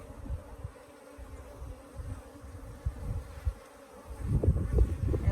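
Africanized honeybees buzz around a hive troubled by laying workers, a low uneven drone that wavers at close range and swells louder toward the end.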